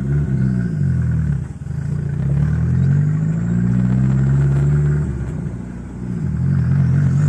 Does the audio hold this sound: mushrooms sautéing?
no